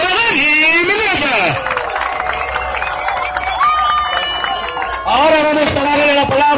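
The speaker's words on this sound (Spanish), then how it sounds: "¡Fuerte el aplauso para Dani Minaya!" A crowd at a political campaign rally in Santiago applauds and cheers a speaker, Dani Minaya, with loud clapping, shouts and babble filling the space throughout.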